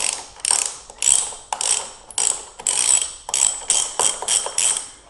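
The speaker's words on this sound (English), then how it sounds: "This is where your 3/4 socket set is going to come in handy. We're going to loosen this bolt." A 3/4 socket ratchet loosens the drive tire bolt on a Pride Mobility Jazzy Select power wheelchair, giving close, bright bursts of quick pawl clicks in a steady back-and-forth rhythm with short pauses between strokes.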